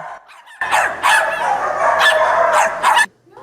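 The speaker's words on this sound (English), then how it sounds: "Kennel by kennel, you'll see eager dogs at Aggieland Humane Society hoping to find a forever home." Several dogs bark and yip in the kennels at a humane animal shelter, a loud, overlapping run of barks lasting about two and a half seconds before it drops off abruptly.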